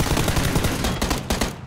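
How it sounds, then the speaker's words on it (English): Video game gunfire from behind during a vehicle chase, a loud rapid burst of automatic shots in quick succession, ending abruptly after under two seconds. "Gunfire from behind."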